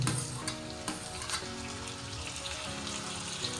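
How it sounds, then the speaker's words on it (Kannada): Ginger and chopped carrots frying in a hot pan, a dense, loud crackling sizzle right up close with a few spoon scrapes, no voices. "ಇವಾಗ ನಾವು ಇವಾಗ ತರಕಾರಿಗಳನ್ನ ಆ್ಯಡ್ ಮಾಡೋಣ. ಇವಾಗ ನಾನು ಕ್ಯಾರೆಟ್ನ ಹಾಕ್ತಾ ಇದ್ದೀನಿ"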